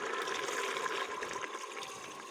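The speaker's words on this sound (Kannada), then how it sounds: "ಈಗ ಇದಕ್ಕೆ ಸ್ವಲ್ಪ ಬಿಸಿ ನೀರು ಆ್ಯಡ್ ಮಾಡ್ತೇನೆ" Hot water is poured into mutton gravy in a cooking pot, a soft continuous splashing and gurgling pour that is faint and close and lasts the whole moment.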